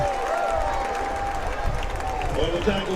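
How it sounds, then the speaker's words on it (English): Football stadium crowd at a college game between the Southwestern Pirates and Mary Hardin-Baylor, a steady roar of cheering from a large distant crowd with some faint whistles, continuous throughout. "You can hear the crowd."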